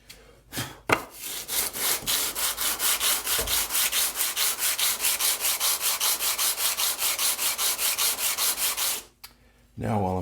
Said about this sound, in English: this sole a quick once over with my 100 grit on a board